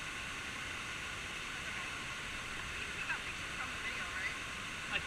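Bocawina waterfall in Belize roars as a steady, distant broadband rush, constant and fairly faint, with a few faint voices underneath.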